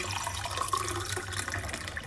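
Water runs from a kitchen tap in a steady, close stream while a decoction brews nearby, filling water; a continuous wash of flow with faint dripping accents.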